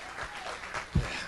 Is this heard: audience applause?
yes